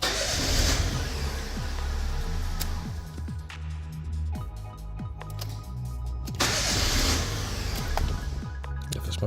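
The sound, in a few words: Fiat Grande Punto starter cranking engine, not starting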